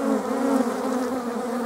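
Honey bees buzz steadily around an open hive being worked, a dense continuous drone that stays close and even in loudness throughout, with no talking.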